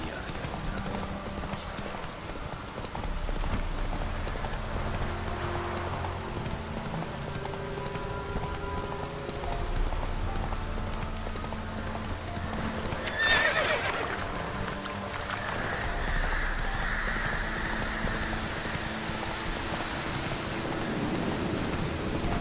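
A horse clip-clops steadily on wet ground under constant rain in The Witcher 3, snorting and whinnying once midway, with game ambience around it.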